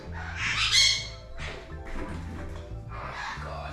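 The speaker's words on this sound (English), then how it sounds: "The birds." A bird squawks harshly and loudly, with further rough calls across the clip over a low, steady background hum, near a forge melting gold and silver.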